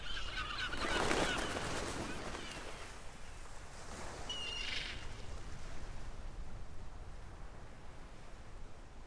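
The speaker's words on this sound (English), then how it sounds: "Plus there's birds." Seabirds in the ship scene of Suikoden IV, honking calls rising over a steady wash of sea and wind ambience, loudest early and fading into continuous background noise.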